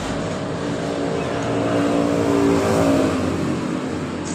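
A Honda Revo Absolute motorcycle engine idles cold with a steady, rough, droning hum, rising slightly in the middle and continuing without a break.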